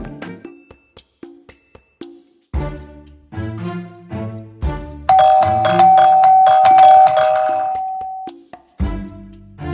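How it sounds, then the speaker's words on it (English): A doorbell chimes loudly partway through, its ringing tones sustaining and decaying over a steady background with faint voices, caught on a CCTV camera. "What kind of pleasure would you get from ringing someone's calling bell and attempting to leave?"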